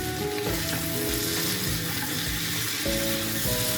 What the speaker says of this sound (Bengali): এবার মশলাটা ভাজা ভাজা না হওয়া পর্যন্ত আমি নাড়তে থাকবো।